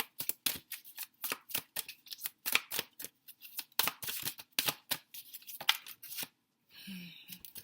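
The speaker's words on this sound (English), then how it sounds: "These cards are hard to shuffle." Crisp, rapid riffling of a stiff tarot deck being shuffled repeatedly in quick bursts, close up, with short pauses between shuffles and no talking.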